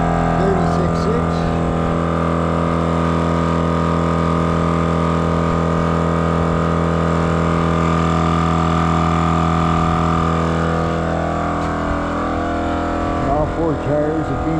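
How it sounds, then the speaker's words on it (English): An EZFlate M.O.A.B air compressor inflating four tires at once runs as a steady, loud motor drone with constant hum throughout, with a voice briefly talking near the end. "All 4 tires are being inflated at one time."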